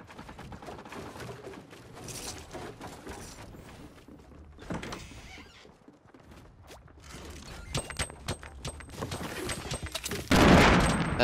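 Gunfire in the video game Fortnite, with scattered mid-distance shots and mechanical clunks early on, then a quicker burst of rapid cracks building to a loud blast near the end.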